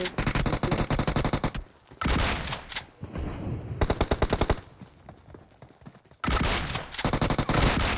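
Bursts of rapid automatic gunfire ring out in a mobile shooter game, loud and close, broken by short pauses, with faint voices in between.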